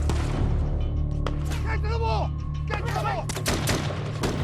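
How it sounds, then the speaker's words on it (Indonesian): Film-scene gunfire as rebels shoot, with sharp shots and a volley cracking under a dramatic soundtrack while a narrator speaks over it. "Mereka ditembaki."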